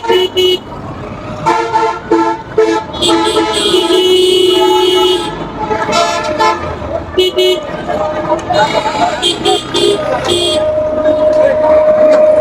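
Local buses and other vehicles honk repeatedly on a busy Dhaka road, with short toots and longer blasts overlapping amid loud traffic rumble while someone talks over the din.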